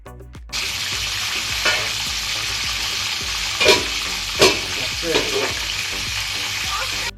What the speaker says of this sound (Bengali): তেলগুলো ভালোভাবে গরম হওয়ার পর এক এক করে ম্যারিনেট করে রাখা চিকেনগুলো আমি দিয়ে দিচ্ছি।